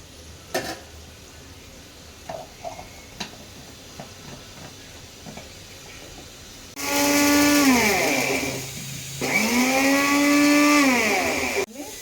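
A mixer grinder whirs loudly, grinding coriander, mustard, cumin and fenugreek seeds into powder in two long close bursts with a short pause between, its motor pitch sliding down and up, after a stretch of faint kitchen taps.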